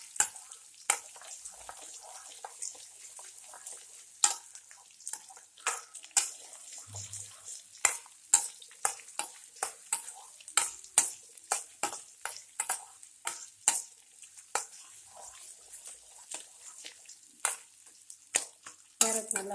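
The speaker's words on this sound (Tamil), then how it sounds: "இப்போ கேரட் நல்லா வதங்கட்டும்." Carrots for carrot chutney fry in a pan with scattered crackles and pops, irregular and sharp against quiet gaps, growing busier as the cooking goes on.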